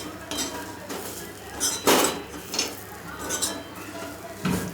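Malvani-style masala paste stirred and fried in a pan, repeated scraping clanks of a spatula on metal every second or so over a low sizzle, close and fairly loud, with no talking.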